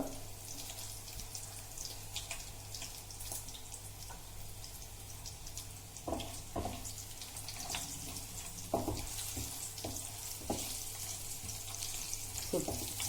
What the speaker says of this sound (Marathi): सुके मसाले चांगले परतले गेले आहेत